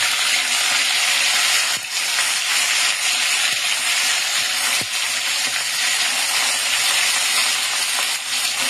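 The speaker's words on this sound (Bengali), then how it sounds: "এই যে পুঁইশাকের বড়াগুলো ভাজা হচ্ছে তেলে" Malabar spinach fritters fry in hot oil, a continuous close, dense sizzle with faint crackles and a couple of soft clicks, steady throughout with no talking.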